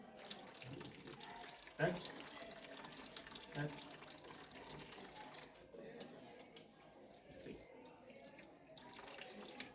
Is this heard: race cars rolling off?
no